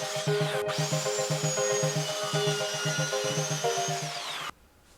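A power tool cuts poplar wood boards to length in a woodshop, a loud, steady whining buzz with a pulsing rhythm that runs for about four seconds and then stops abruptly.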